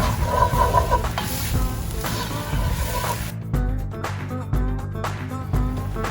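A thick chili of meat, tomatoes, beans, onions, garlic and corn is stirred in a pot on a Kamado Joe grill, giving a wet, scraping churn with a low sizzle and a few soft thumps of the spoon.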